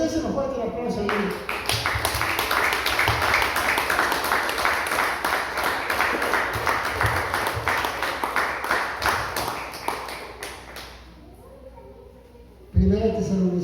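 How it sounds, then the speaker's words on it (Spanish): A church congregation bursts into loud, sustained applause for about ten seconds, dense and steady throughout, then dies away before a voice speaks. "Déselo fuerte el aplauso, hermano."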